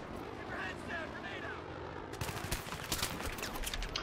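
Gunfire from the video game Battlefield 3 in co-op play: a low, muffled rumble gives way to a dense barrage of rapid shots and blasts that fills the second half, loud and continuous.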